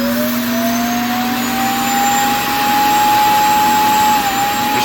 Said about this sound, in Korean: 한번 스테이션에 들어가면은 오늘 포집한 먼지랑 그 오염수를 싹 해가지고 걸레를 한번 빨고 그런 작업들을 하게 됩니다.